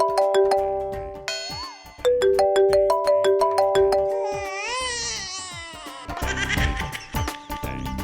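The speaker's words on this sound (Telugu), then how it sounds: "ఫోన్ వస్తుంది" A phone ringtone plays a loud, close melodic tune of repeating synthetic chimes that shifts pattern several times and runs for the whole stretch with no talk over it.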